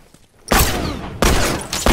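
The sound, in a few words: bomb explosion in The Last of Us video game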